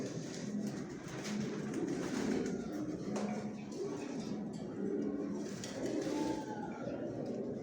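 Many Johnson-line racing pigeons coo continuously in a breeding loft, a dense, steady chorus of low throaty calls filling the space at close range.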